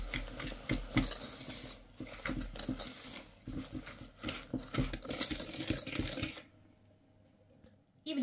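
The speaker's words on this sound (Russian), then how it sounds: "И венчиком очень хорошо все перемешиваем до соединения ингредиентов." Cornstarch and flour whisked in a bowl, with dense, busy scraping and tapping of the whisk against the bowl over about six seconds before it stops abruptly, leaving near silence.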